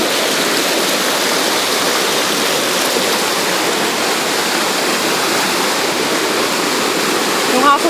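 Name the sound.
Victoria Falls waterfall rushing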